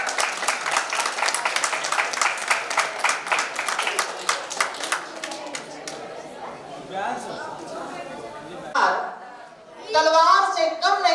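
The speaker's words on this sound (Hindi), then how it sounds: "जोरदार तालियां होनी चाहिए।" Applause from an audience at a Louis Braille birth anniversary ceremony, dense rapid clapping that thins after about five seconds into scattered claps and chatter, followed by someone speaking over the room.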